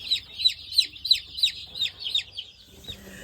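Newly arrived meat chicks peep in a quick run of about eight high, evenly spaced chirps, close and clear, before they trail off into quiet background.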